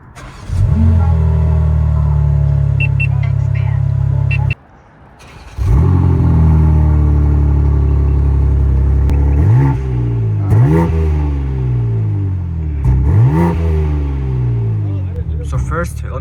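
A 2024 BMW M4 with a six-speed manual starts up close by, settling into a deep, loud idle, then gets blipped in several sharp revs that rise and fall, with a voice talking over it.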